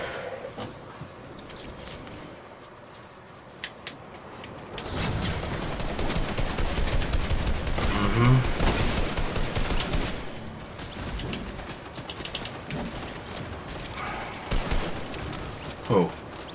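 Fortnite gunfire rattles in rapid bursts and scattered single shots, loud and busy with a denser volley midway, mixed with in-game movement sounds and no voices.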